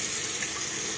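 A double faucet pours steadily into a stainless steel sink, giving a close, continuous bright hiss of running water.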